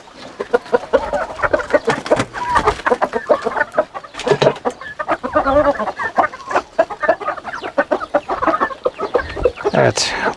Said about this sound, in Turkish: bugün de Hint tavuklarımızın gezinme günü